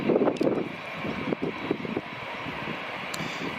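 A jet aircraft taxiing at Edinburgh Airport on a summer evening, a steady distant engine roar under outdoor wind noise, with a few louder gusts near the start.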